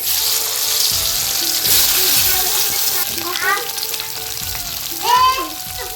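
Potatoes frying in hot oil with dried red chilli, bay leaf, green chilli and panch phoron spices for aloo dum, a steady close broadband sizzle throughout, with a few clinks and brief tonal kitchen sounds near the end.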